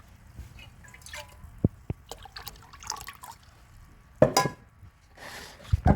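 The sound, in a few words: pouring sugar syrup into a bottle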